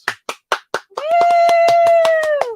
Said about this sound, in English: You know, I gotta clap.